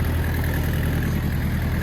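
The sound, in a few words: Mitsubishi MT 2501 Japanese tractor engine idling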